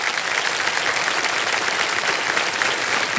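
A studio audience at a television quiz show, Kaun Banega Crorepati, breaks into dense, sustained applause, a loud even wash of many hands clapping with no pause for over three seconds.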